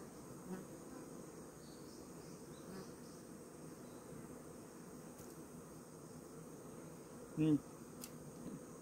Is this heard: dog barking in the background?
no